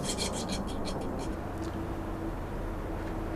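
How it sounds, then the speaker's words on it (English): A hand file rasps along the rough edges of steel bracket pieces, with quick scraping strokes early on that fade into a steady, dense scraping texture. "Using a file, I'm smoothing off all of the rough edges."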